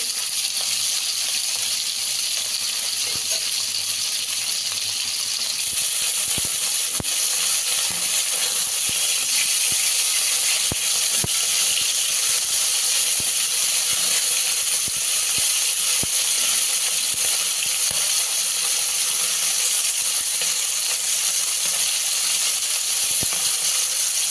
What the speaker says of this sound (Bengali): বাকি মাছগুলো ভেজে দিচ্ছি।